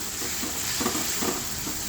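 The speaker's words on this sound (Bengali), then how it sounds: "এবারে ভালো করে ভেজে নেব" Grated onion and garlic fry in hot oil in a pan, giving a soft continuous sizzle with a few faint stirring scrapes, quiet and steady.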